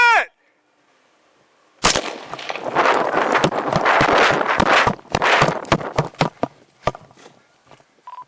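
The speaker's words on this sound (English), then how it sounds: "Shots fired." Gunshots ring out during a police confrontation at a school, a dense burst of sharp, loud cracks and impacts packed together for several seconds, then thinning into scattered reports after a brief quiet.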